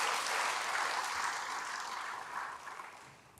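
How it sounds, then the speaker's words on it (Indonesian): A church congregation applauds in a soft, steady roar of many hands clapping that slowly tapers off, heard from a distance with no clear speech. "Berikan tepuk tangan hebat bagi Dia."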